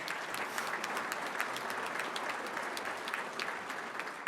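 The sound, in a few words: applause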